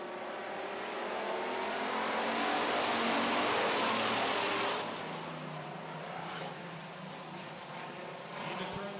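Street stock race cars roar off at the start of a heat race, a dense blended engine drone swelling loud and then easing as the pack pulls away, with a few sharper revs later.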